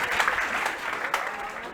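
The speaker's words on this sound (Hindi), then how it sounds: "एक बार जोरदार ताली हो भाई" An audience at a coaching-class session claps together in steady, loud applause that fills the whole stretch. A few voices mix in faintly.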